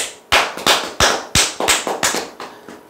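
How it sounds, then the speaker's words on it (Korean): A small audience claps in sharp, separate bursts, about a dozen loud percussive hand claps spaced irregularly and fairly close, with no talking. "참, 박수 한번 치시죠."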